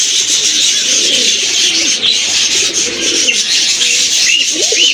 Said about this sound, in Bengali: এটা হচ্ছে আপনার ইন্ডিয়ান লোটন কবুতর